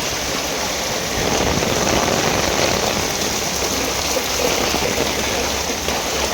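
Heavy monsoon rain pours steadily in Dungi village, a dense, continuous hiss that swells slightly after the first second and stays loud and unbroken, with no voices.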